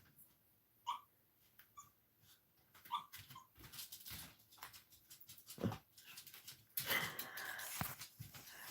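A sleeping puppy whimpers in a nightmare, giving soft, high, faint whines and small yips in scattered bursts, with rustling and breathing noises near the end.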